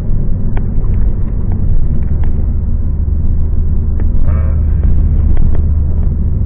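A turbocharged Scion tC drives along a road, its engine a loud, steady low rumble with road noise close by and no talk.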